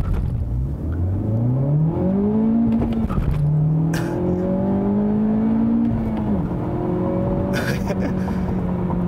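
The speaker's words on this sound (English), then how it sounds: "You can see the car struggles a little bit to put the power down" A 2017 Honda Civic Type R launches under launch control, its engine roaring loud and close as the revs climb steadily, drop briefly at a gear change, then pull hard again with no talk over it.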